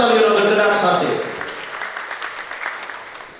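An audience applauds at a birthday celebration event in Amreli. The clapping swells under a speaker's voice, then carries on alone as a loose, fading patter.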